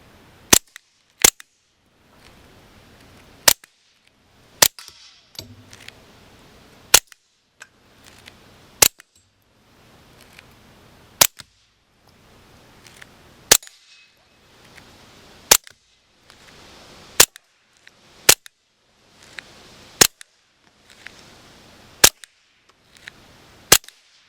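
Taurus TX22 Gen2 .22 pistol firing single shots outdoors, about a dozen sharp cracks spaced a second or two apart over a quiet background.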